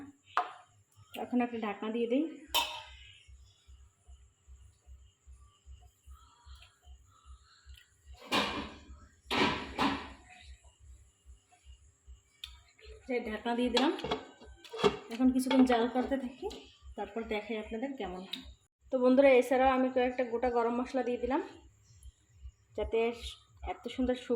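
A lid is set onto a cooking pot of a fried-rice dish with a couple of short clattering knocks, heard between stretches of a person talking.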